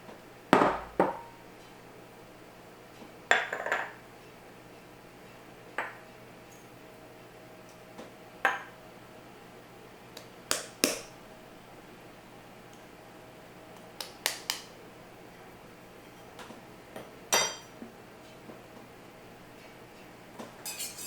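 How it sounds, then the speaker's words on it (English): Dry bagel ingredients, including psyllium husk, tipped into a bowl and whisked: scattered close taps, clinks and brief scraping knocks spaced irregularly over a quiet kitchen background. "Now we're going to just throw all the dry ingredients in."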